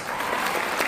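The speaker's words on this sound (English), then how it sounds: "Clap for Dig." Audience applause greets Dignitas after they close out a four-game esports series win, a dense, steady burst of clapping from a crowd throughout the short moment.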